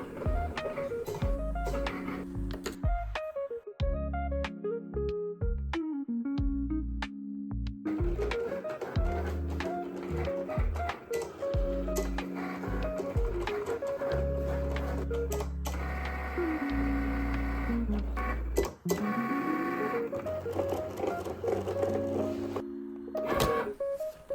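A Cricut machine feeds a cutting mat and cuts a sticker sheet, its motors whirring and stepping in repeated mechanical bursts with changing pitch and short pauses. The sound is close, steady and moderately quiet, with no talk.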